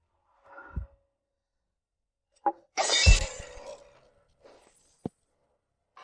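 Glass shatters and breaks indoors in a drama scene: one loud crash with a scattering clatter of shards, followed by a few isolated clinks and faint shuffling.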